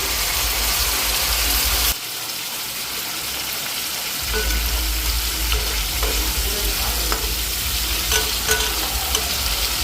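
Koi fish frying in oil with spices in a pan for tel koi, a loud continuous sizzle and bubbling with stirring, briefly dipping for a moment before surging back, close by with no talk.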